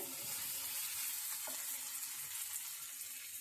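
Spice paste frying in oil in a pan, with a continuous soft crackling sizzle and an occasional faint stir, steady and fairly quiet with no voices.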